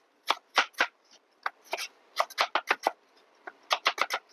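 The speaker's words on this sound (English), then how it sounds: "And I just slice them, and you can see how big I slice them" Knife slicing apples for a cinnamon apple cake, a quick run of sharp, crisp cuts in irregular bursts, close and alone with no talk.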